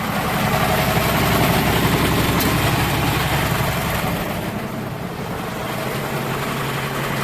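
A 1969 John Deere 4020 diesel tractor engine idles close by in a loud, steady low rumble with a faint rhythmic chug that eases slightly partway through.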